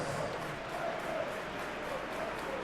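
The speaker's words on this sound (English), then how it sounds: "The supporters in great voice, and there's a real sense of anticipation in the air." Stadium crowd at a PES 26 football match on a clear night, a broad sustained roar of supporters that holds steady throughout, faint chanting swells rising within the din.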